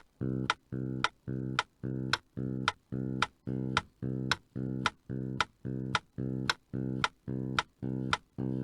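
Short plucked bass notes played as offbeat eighth notes repeat at an even, steady pulse, each followed by a sharp click, around sixteen hits with brief gaps between.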